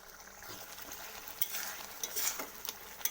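Prawn gravy with mustard and poppy seed paste bubbling in a pan over medium heat, a soft continuous sizzle with faint crackles and occasional light clinks, no talking.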